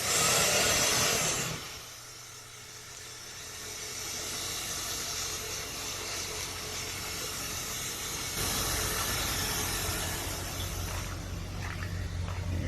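A low-mileage Mustang engine idles with a steady, smooth hum that runs without a break, with a louder rushing burst at the start and a slight rise partway through.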